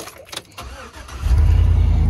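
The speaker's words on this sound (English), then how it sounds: "So let's go ahead and let's turn on the truck." A Chevrolet Silverado pickup truck engine starts close by: faint clicks and cranking give way after about a second to a loud, steady rumbling idle.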